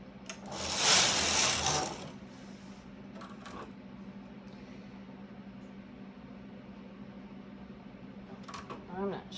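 A Silver Reed punch-card knitting machine carriage is pushed across the needle bed, making a brief loud whooshing, clacking sweep near the start, followed by a faint mechanical hum and small clicks.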